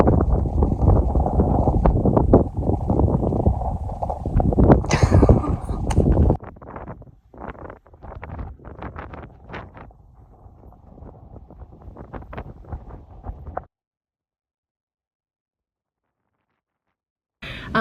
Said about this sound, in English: in the middle of this terribly windy dust storm of a day